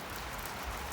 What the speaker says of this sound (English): One of the beauty about Guyana is the raindrops on the rooftop.